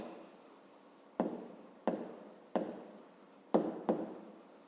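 Pen strokes on paper while writing out a fifth-grade maths calculation: short scratchy bursts repeat at a steady, moderate pace, close and quiet, with no talk.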